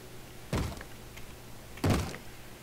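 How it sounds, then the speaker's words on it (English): Two heavy thuds about a second apart as a wooden door is struck and broken in a Minecraft survival adventure map, each a short dull knock over quiet game ambience. "Breaking the door again."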